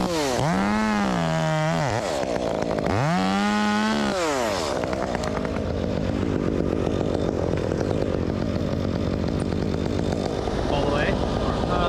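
A 201 chainsaw fitted with a West Coast Saw muffler revs twice in sharp rising and falling bursts, then holds a loud, steady, raspy high-speed whine close by.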